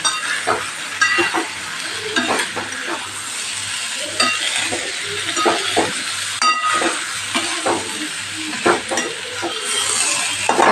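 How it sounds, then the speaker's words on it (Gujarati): Soaked rice gently mixed into vegetable pulao in a pot, a spoon scraping and clinking against the metal in irregular strokes over a steady soft sizzle, close and fairly loud. "એને આપણે મિક્સ કરી લઈશું હળવા હાથે કારણ કે પલાળેલા છે આપણે ચોખા ભાંગી ન જાય"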